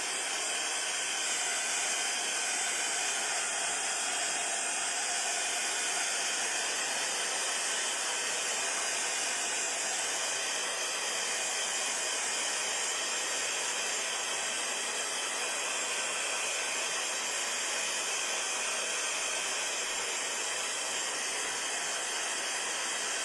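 A hair dryer blows steadily on a tissue paper collage, giving an unbroken airy hiss at constant, moderately loud level with no pauses and no voices.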